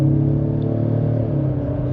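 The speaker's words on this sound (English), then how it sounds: "I'm just gonna give it a little bit of gas here from about 36." A brand-new 2025 Ford Explorer Active with a 2.3L engine and rear-wheel drive accelerates from about 36 mph, a steady low engine drone with rising harmonic hum heard from inside the cabin.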